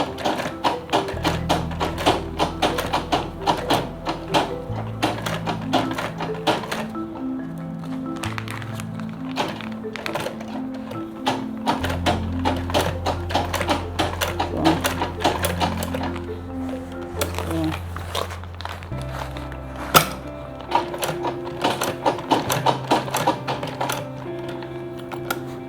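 An industrial sewing machine stitches a lunch bag with a steady, rapid mechanical chatter of needle strikes, running continuously and close, over a low rhythmic hum that shifts as the machine speeds up and slows.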